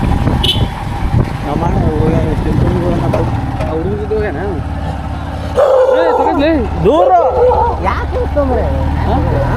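Dogs bark in a few short bursts amid loud crowd chatter and passing vehicle noise at a Makara Sankranti gathering in Kudala Sangama, with the barks clearest near the middle.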